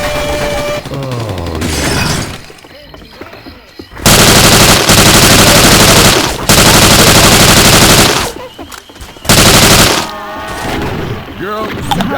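Gunfire in the Left 4 Dead 2 video game on a modded swamp level, with loud sustained bursts of automatic fire broken by short pauses, and voices and other game sounds between the bursts.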